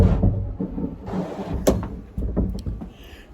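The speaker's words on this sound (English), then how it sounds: "So we're gonna come into the spinny door." A revolving darkroom door turns open with a series of soft knocks and thuds, a sliding rumble and a sharp click, heard close and with no one speaking.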